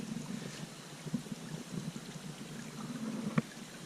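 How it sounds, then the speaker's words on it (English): Billy Creek on the Ouachita Trail near Horsethief Springs flows with a steady, soft wash of moving water, fairly faint and continuous, with a light splash near the end and no voices. "So here is Billy Creek."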